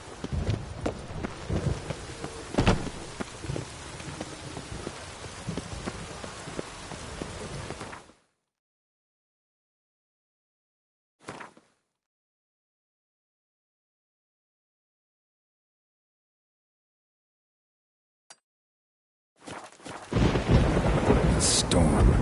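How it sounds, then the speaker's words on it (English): Game thunderstorm in The Witcher 3 opens with loud steady rain and thunder rumbles, cuts to near silence with a brief burst midway, then rain returns strongly at the end. "A storm, damn it."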